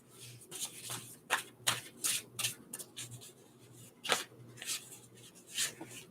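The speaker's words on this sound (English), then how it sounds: "Let me give it a good shuffle." Tarot cards being shuffled by hand, a run of crisp riffling bursts and soft papery slides at close range, coming in uneven clusters with short pauses between them.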